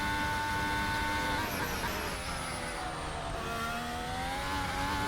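A Formula-style race car engine screams continuously through a Turkish Grand Prix lap in a racing game, pitch rising and dipping through gear changes, loud and steady with no break.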